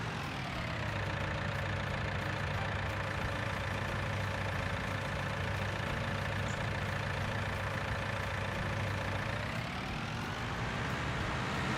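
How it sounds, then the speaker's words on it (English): Steady low drone of a tractor engine idling in a farming video game, a constant hum with a slight pitch shift near the end, no talk over it. "we'll back the tractor in to our herbicide tanks"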